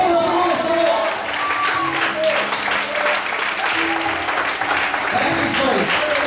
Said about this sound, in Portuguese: Aplauda o Senhor nessa hora.